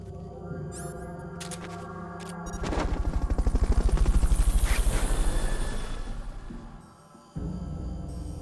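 A helicopter in Metal Gear Solid V, during a mission to infiltrate a U.S. missile base. Its rotor chop swells to a loud, rapid pulsing roar and then fades, amid sharp crackling bursts like gunfire.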